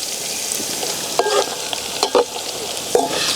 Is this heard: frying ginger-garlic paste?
yes